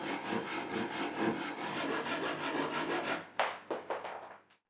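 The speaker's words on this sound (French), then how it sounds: "Je dois maintenant découper un autre cercle pour le dessus, cette fois avec la table à 0 degré." A saw cuts a circle of white oak for a tabletop with a fast, loud, rhythmic rasping, then stops and a few short scraping strokes and knocks follow as the cut ends.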